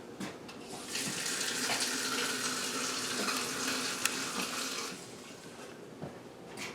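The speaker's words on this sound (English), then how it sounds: "Then we're just going to top it with some hot water from the tap." Hot water runs steadily from a kitchen tap into a quart jar while a crockpot meal of pork tenderloin and potatoes in mushroom gravy is prepared, a continuous close splashing stream with no talking.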